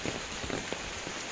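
Heavy monsoon rain pours down in the Konkan region, a steady, even hiss of drops pattering on the ground and road, fairly soft and continuous with no voices.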